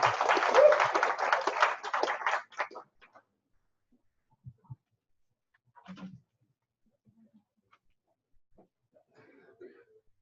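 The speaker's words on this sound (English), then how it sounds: "Give him a big round of applause." Audience applause for the MC at a live nutrition session, a dense burst of clapping lasting about two and a half seconds, then breaking off into near silence with only a few faint scattered sounds.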